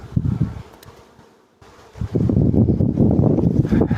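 Close, loud buzzing of many honeybees at a hive entrance with wind rumble on the microphone, dipping briefly to quiet before swelling back to a dense, continuous drone.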